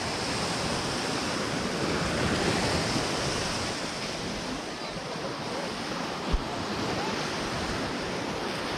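Ocean waves on a beach at Playa Zapotillal in Costa Rica, a continuous roaring wash of surf mixed with wind buffeting the microphone, close and steady with one brief thump.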